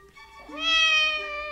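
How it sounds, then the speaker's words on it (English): A single cat meows for breakfast, a clear, drawn-out call that rises and holds before tapering off, close to the mic with no talk. "This cat, I know you want your breakfast"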